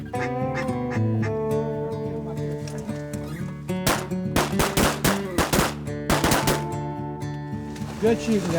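Shotgun blasts during a duck hunt ring out in a quick irregular volley of loud booms, mixed with honking duck calls and other sustained call tones throughout.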